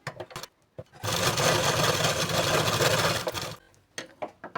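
A sewing machine bastes loose tacking stitches along the lining of a katori blouse, one loud continuous run of about two and a half seconds framed by brief taps and handling noise.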